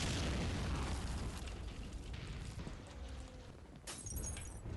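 Mortar fire in the wartime strategy game Men of War, with a loud rumbling blast opening the clip and its low roar slowly fading, followed by a further crack near the end.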